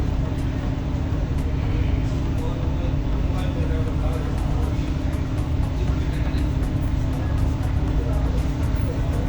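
A BRTC bus travels from Dhaka to Sylhet, heard from inside as a constant low engine and road rumble with a steady drone, faint rattles and indistinct background voices.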